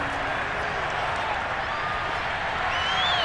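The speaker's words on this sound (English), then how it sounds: "They're going to give out a little applause on that play" Crowd applause and cheering in a stadium during an American football video game, Lions versus Patriots, a steady broad wash of clapping that holds evenly throughout with no voices standing out.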